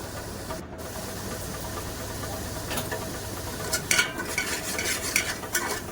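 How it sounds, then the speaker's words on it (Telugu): Green chillies fry in a pan for fish curry with a dense, continuous sizzle, a few scraping stirs growing busier toward the end, close and fairly loud with no talking. "ఇంకా బాగా ఫ్రై చేయండి. అది పచ్చి వాసన పోయేదాకా ఫ్రై చేయండి దాన్ని."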